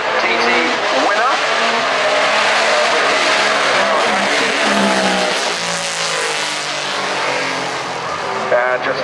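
A racing motorcycle on the Goodwood Festival of Speed hill climb blips its throttle on downshifts through Molecomb corner, its loud engine close and dominating throughout, with a voice faintly mixed in.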